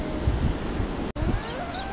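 Big ocean waves at Margaret River surf spot, a steady broadband wash of surf mixed with gusty wind buffeting the microphone, with a brief cut midway and faint tonal sounds afterward.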